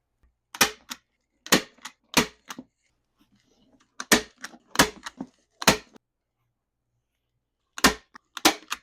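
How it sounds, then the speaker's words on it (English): A handheld staple gun fires sharp, separate clacks while fixing fabric to the back of a bulletin board, about a dozen snaps in loose clusters with silent gaps, close and clear. "attach it on the back with a staple gun"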